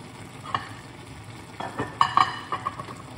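Vegetables fry in a pan with a soft steady sizzle while a utensil stirs and scrapes, giving a few louder clinks and scrapes near the end, close and without talk.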